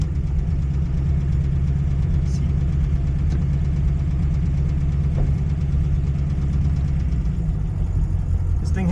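A 1937 Buick Century engine idles with a steady low rumble, then pulls away from idle with a gentle rise in load, close and continuous throughout.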